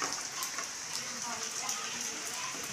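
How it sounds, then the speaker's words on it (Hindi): Steady rain falls in Bahawalpur as a continuous, even hiss with a faint patter of drops on surfaces, unbroken throughout and with no voices over it. "और बारिश भी इंजॉय कर रहा हूँ।"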